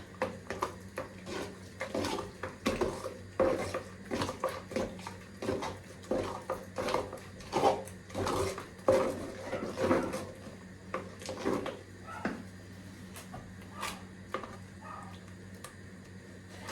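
A utensil beats quince jam against the walls of a cooking pot, knocking and scraping rhythmically, with repeated close clattering beats that slow and thin out near the end.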